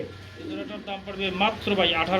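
A breeding pair of mealy-bar racer pigeons at a pigeon sale coos softly, mostly buried beneath steady close-up talking.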